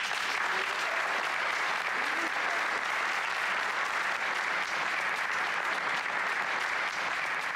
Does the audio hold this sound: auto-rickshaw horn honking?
no